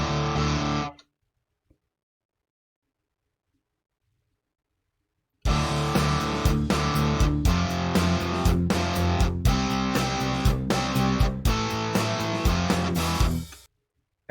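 An earlier rough mix of a rock song plays back loud and dense, with heavy distorted band sound and steady drum hits, after a brief burst and several seconds of silence.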